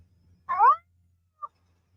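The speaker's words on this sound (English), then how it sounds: "just had to make sure I heard my little kitty." A pet kitten gives one clear, close meow followed by a tiny faint chirp in an otherwise quiet room.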